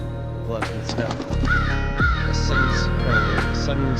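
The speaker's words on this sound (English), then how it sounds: "A sudden startled crow caws out its annoyance." A startled crow caws several times in a snowy birch wood in a horror game, the harsh calls repeating in a loose rhythm over a low ambient drone, with a voice speaking alongside.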